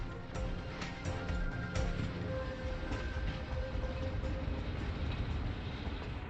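A slow public-service passenger train, the 5633 from Puxiong to Panzhihua South, rolls along the rails with a steady, moderately distant rumble and faint rhythmic clatter, no voices over it.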